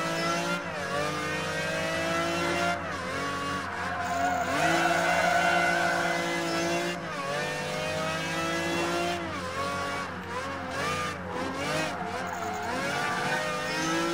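A race car engine revs hard in Project Gotham Racing 3, a loud, continuous, whining howl that rises and falls through gear changes, with brief dips where shifts occur.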